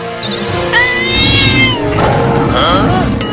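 Cartoon cat meowing and yowling in a series of loud, drawn-out cries during a fight scene with a lion, with busy soundtrack noise underneath throughout.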